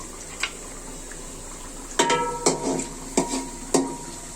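A spatula stirs onions in a cooking pan: a few sharp metallic scrapes and knocks, spaced out after a quieter start, over a faint background hiss.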